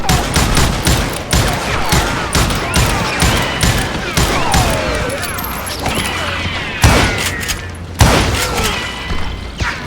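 Sustained gunfire in the Western shooter Call of Juarez, a dense fusillade of overlapping shots and booms with a couple of heavier blasts near the end, loud and close for about ten seconds.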